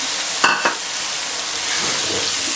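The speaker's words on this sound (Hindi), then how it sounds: "से भुन गया है तो अब इसमें आलू डालूंगी।" Potatoes drop into frying masala with two short thuds near the start, then a steady broad sizzle runs on with faint stirring scrapes toward the end. No voices.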